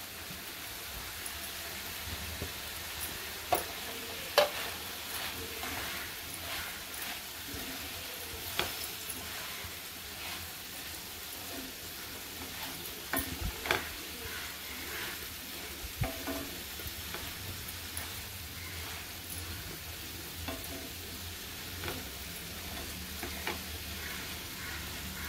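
Prawns with fresh winter spring onion stir-frying in a pan, a steady soft sizzle with scattered scraping stir clicks throughout, close and moderately quiet, no talking.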